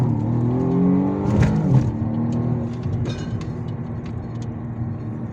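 A BMW 135i accelerating hard from inside the cabin, its engine note climbing in rising harmonic sweeps and then settling into a loud, steady, rough drone of speed with road noise.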